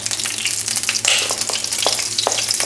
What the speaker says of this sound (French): le gingembre, hein, gingembre haché. Hop. Une petite coloration pour avoir le goût dans l'huile.